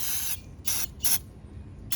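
Throttle body cleaner is sprayed from an aerosol can onto old fuel injectors from a 2009 Lincoln MKS 3.7 in four short, close hissing bursts with brief pauses between them.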